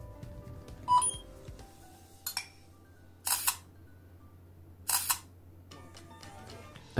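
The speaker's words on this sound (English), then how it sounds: "And these are different shutter sounds." Several distinct shutter-click sounds from a 2010 Samsung Galaxy S i9000 Android phone camera, each a short sharp burst, spaced a second or two apart, with a faint beep and quiet background hum between them.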